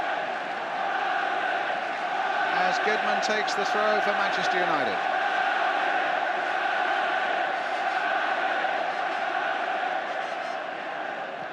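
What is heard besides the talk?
football stadium crowd roaring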